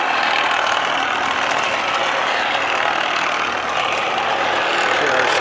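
Patterson Kelley 4-quart Lucite V blender with pin intensifier running, giving a steady, loud, dense mechanical whir and rush that holds constant throughout.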